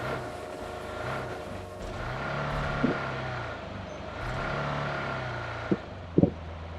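A vehicle engine in the video game BGMI hums and drones steadily at mid distance, with a few sharp clicks and thumps near the end; no talking.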